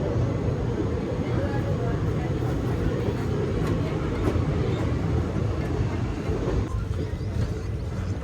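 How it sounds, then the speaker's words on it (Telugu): A passenger train on the Andaman Express route near Pathankot runs alongside, a steady loud rumble and rattle of wheels and cars lasting throughout, with a voice over it. "చూడండి పక్క నుంచి పోతుంది మన ట్రైన్ కూడా."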